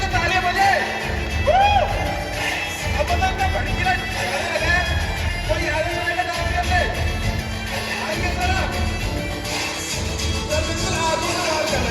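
A crowd at a fashion runway emcee event in Mumbai cheers and whoops in a loud, continuous roar that stays dense and steady throughout, with voices shouting inside it.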